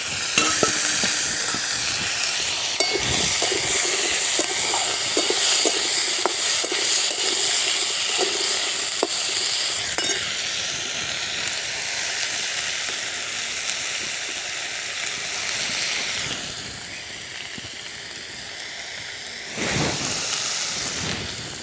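Cut potatoes frying with spices in a pan, a dense steady sizzle with repeated clacks and scrapes of stirring that ease off near the end, then a brief louder burst, with no one speaking.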